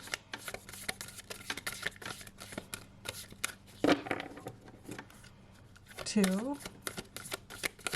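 Crisp riffling bursts of tarot cards being shuffled, repeated several times up close, with a voice speaking briefly between shuffles.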